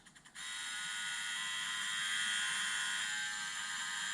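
A Bosch GRL800-20HV self-leveling rotary laser level starts up with a few short clicks, then settles into a continuous high-pitched whirring, buzzing hum that holds steady and close without talk.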